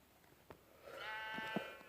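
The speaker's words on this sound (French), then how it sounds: "Un mouton." A single sheep bleats in the Minecraft video game, a short nasal wavering cry that rises out of quiet ambience, faint and close.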